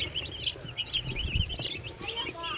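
Crowded 45-day-old broiler chicks in an open coop peep and cluck continuously, their overlapping chirps close and steady, with faint low voices underneath.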